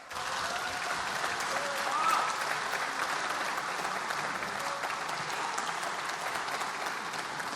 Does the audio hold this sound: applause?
yes